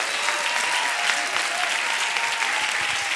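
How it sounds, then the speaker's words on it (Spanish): Congregation applauding during a church sermon, a dense steady wash of clapping that fills the whole stretch at an even level with no talk above it. "Aplaude al Rey de Gloria."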